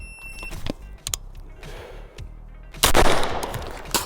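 A Genesis Arms Gen-12 SBS short-barrelled 12 gauge shotgun fires slugs at a 50-yard target, giving sharp close blasts with ringing mechanical clatter between them, and the last shot is the loudest and longest.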